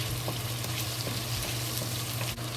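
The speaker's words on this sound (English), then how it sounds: "slowly fry it until the smell release out, the good smell, the ginger, garlic, and onion smell release out" Ginger, garlic and onion fry slowly in a pan for stir-fried pork with scrambled eggs, a dense continuous sizzle with faint stirring clicks, close and steady throughout.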